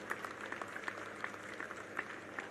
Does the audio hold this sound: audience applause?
yes